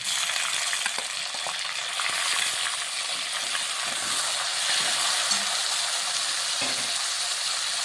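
Tomatoes dropped into a pan of frying chilli and ginger give a continuous close sizzle with faint stirring scrapes and small knocks throughout, no voices.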